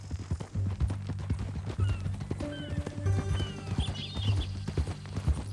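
A horse's hooves clip-clop in a steady walking rhythm in Red Dead Redemption 2, with a brief whinny and faint tonal background sounds alongside the close hoofbeats.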